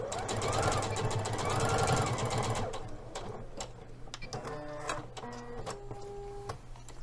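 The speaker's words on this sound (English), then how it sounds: "we're going to stop and backstitch" A domestic sewing machine stitches steadily through a Liberty London fabric seam for a palazzo suit, then slows into stop-start bursts as it backstitches, with faint ticking between runs.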